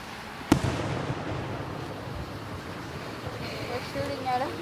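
A firework bursts at a display in Milan with one sharp bang, followed by a rumbling, crackling wash of noise. Voices chatter faintly in the background.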